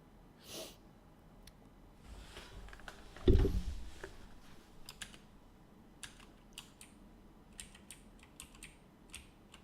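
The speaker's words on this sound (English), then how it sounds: "So let's just try typing this and see if it works." Typing on a computer keyboard while debugging code, with scattered close clicks and short bursts of keystrokes, plus one louder thump partway through and no speech.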